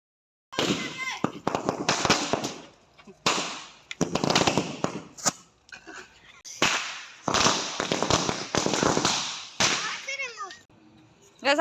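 Firecrackers go off at a New Year 2024 party in sharp repeated bursts and crackles, with voices talking and cheering between and over the blasts.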